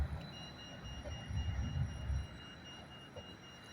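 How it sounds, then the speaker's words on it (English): A train rolls past on a nearby rail line, a low steady rumble swelling and fading over a few seconds with faint high whine above, heard from a roadside without talk. "There goes the train."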